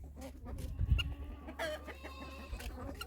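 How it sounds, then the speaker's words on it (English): Homestead chickens and roosters clucking up close, with several short overlapping clucks and calls over a low steady hum and no talk. "Too many roosters. Definitely need to get rid of roosters."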